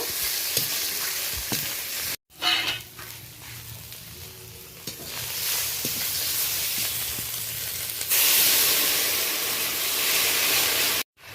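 Ginger paste sizzles loudly in hot oil while being stirred in a pan for a spicy fish curry of large featherback fish. The hiss is continuous, briefly cut twice, and swells stronger toward the end.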